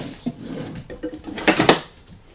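A drawer in a 2025 Keystone Cougar 316RLS RV slides and clunks as it opens and shuts, giving a series of close, sharp knocks and rattles that end in a loud clatter.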